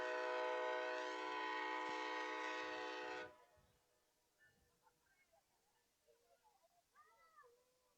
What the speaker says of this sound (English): But not before the train has to make its appearance.